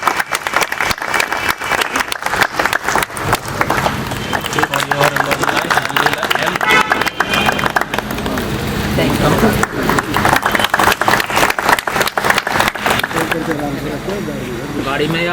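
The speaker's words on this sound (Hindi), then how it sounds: "करतल ध्वनि से जोरदार तालियों से तो आज की शुरुआत करते हैं हम लोग" An audience at a retirement function claps loudly and steadily for a long stretch, dense applause filling the room with no break.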